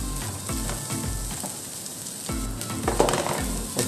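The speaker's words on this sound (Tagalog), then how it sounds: "Ito na po ang ating chicken. Kainit lang natin siya ng 2 minuto." Chicken frying in a hot pan while sisig is cooked: a steady bright sizzle with repeated rhythmic scraping and stirring strokes that knock against the pan, close and fairly loud, with no talking.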